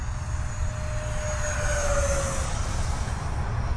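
FMS F-35 V2 64mm electric ducted fan RC jet flying at full throttle, a continuous loud rushing whine with a shifting pitch over steady outdoor rumble.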